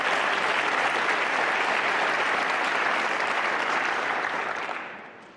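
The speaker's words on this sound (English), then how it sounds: "I think that deserves a round of applause." A conference audience applauds steadily and loudly for several seconds, the clapping gradually tapering off at the end.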